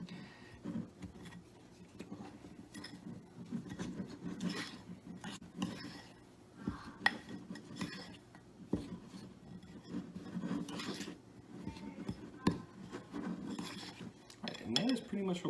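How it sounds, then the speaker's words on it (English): Butter and brown sugar being stirred together in a bowl, a steady soft rubbing and scraping with occasional light clinks of the utensil against the dish, close and fairly quiet. "And now we're just going to mix everything together"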